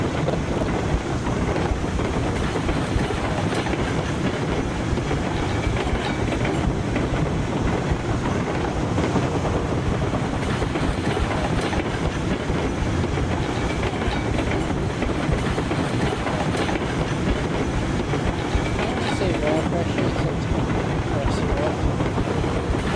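Steam locomotive coasting on rails with the regulator shut in the train game Railroads Online: a steady, dense rumble of rolling wheels and rail noise with wind, continuous and loud throughout.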